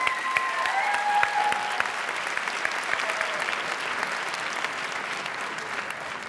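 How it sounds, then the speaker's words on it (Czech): A gala audience at a Miss Academia 2013 pageant claps in a full, continuous round that slowly thins toward the end, with faint voices and brief tonal sounds under the clapping. "Prosím ještě jednou velký potlesk!"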